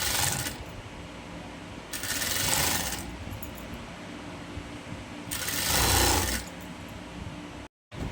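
Sewing machine stitching lace onto a girl's kaftan, running in two bursts of whirring stitches separated by a quiet pause, close and clear with no talking.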